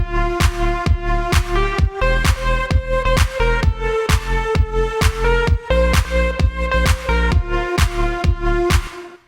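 A house beat with punchy kicks and a sidechained synth pad pumping rhythmically in time under an LFO Tool volume shaper, loud and steady throughout.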